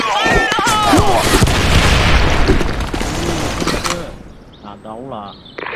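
A grenade blows up in a first-person shooter game, a loud booming blast dominating the first few seconds over heavy gunfire and game noise, with game voice chatter before it fades out.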